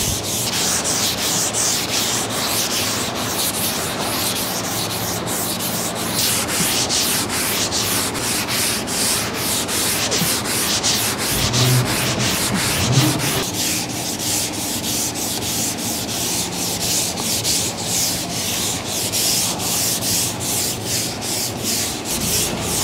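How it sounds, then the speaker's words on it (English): Continuous rhythmic rasp of 180-grit sandpaper rubbed back and forth across a car body panel, close and loud, with steady repeated strokes throughout. "we're gonna sand over the whole entire panel"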